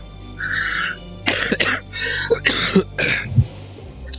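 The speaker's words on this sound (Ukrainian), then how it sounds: "Я, звісно, извиняюсь за кашель" Several harsh coughs in quick succession, loud and close, with brief pauses between bursts and a bit of throat clearing.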